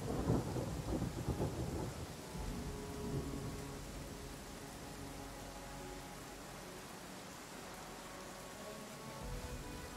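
Rainstorm with thunder in the video game Pathfinder: Kingmaker: a deep rolling thunder rumble opens and fades over a couple of seconds, followed by steady rain hiss and faint game ambience, with no talk.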